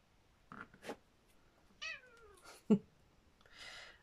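A pet cat meows several times indoors, short chirpy calls and one longer falling meow spaced across a quiet room, close and fairly faint, with no speech.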